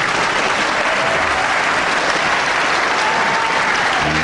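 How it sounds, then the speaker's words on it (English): Sustained applause from a wrestling crowd at a televised World of Sport bout, a dense, steady roar of many clapping hands filling the hall without a break. "listen to that applause for good sportsmanship from both men"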